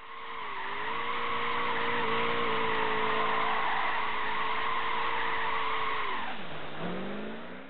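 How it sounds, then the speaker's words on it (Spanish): A Corvette ZR1 burning rubber in Gran Turismo, a long steady screech of tire squeal over a revving engine, loud and close, ending with a falling pitch as the car lets up. "Este monstruo meante es el Corvette ZR1. Lo que mejor se va a hacer, quemar rueda."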